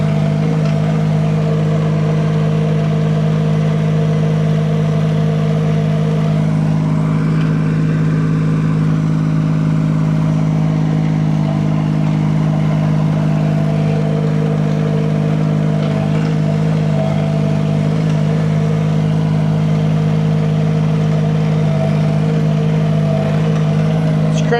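A diesel SDLE20 mini excavator bought at auction runs steadily at a constant idle, its low engine drone close and unbroken for the whole stretch with no talking over it.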